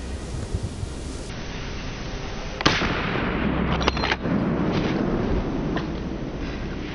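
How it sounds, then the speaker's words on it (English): A single sharp gunshot cracks out during a wild boar hunt in open fields, followed by a few fainter pops amid wind noise and outdoor rumble. "a sharp gunshot rang out, cutting off all attempts of the wild boar to escape"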